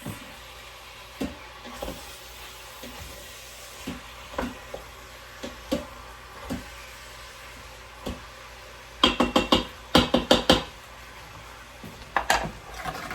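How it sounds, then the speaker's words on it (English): Meat and onions sear in a pot for Czech goulash: a low, steady sizzle runs under scattered scrapes and clinks from a stirring utensil, with a brief burst of rapid clatter near the end. "You want to just make sure that all of your meat and your onions have started to sweat."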